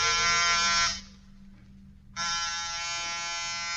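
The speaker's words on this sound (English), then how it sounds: "Get off the buzzer." A harsh electric door buzzer sounds loudly, stops for about a second, then buzzes again continuously.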